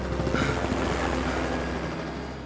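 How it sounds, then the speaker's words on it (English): A tourist helicopter flies past, its steady rotor drone holding loud and even for the full stretch with no voices over it. "Tourist helicopters continue to fly by"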